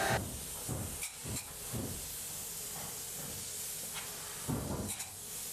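Spray foam insulation hisses out in intermittent bursts as it seals the top of inside walls in an open attic during a roof insulation job; the close, rushing sprays stop and start without any talking.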